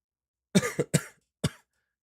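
Four short, sharp coughs in quick succession from a streamer, three bunched together and one after a brief pause, close to the microphone in an otherwise quiet room.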